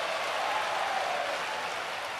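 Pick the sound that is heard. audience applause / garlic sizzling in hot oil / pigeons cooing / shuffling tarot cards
audience applause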